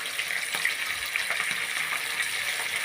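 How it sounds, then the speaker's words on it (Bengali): Small fish and potatoes frying together in oil make a bright, dense sizzle, steady and close, with occasional soft crackles and spatters. "এখন আমি আলু দিয়ে দিয়েছি তেলের মধ্যে"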